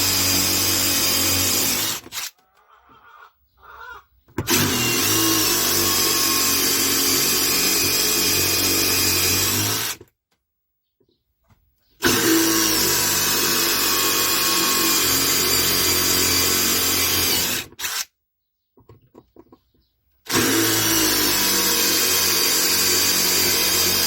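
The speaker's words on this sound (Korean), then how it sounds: "드릴 비트가 마모가 돼서 잘 안되네요." A power drill with a worn bit drills in three long, loud, sustained whirring runs, stopping abruptly twice for a couple of seconds each time.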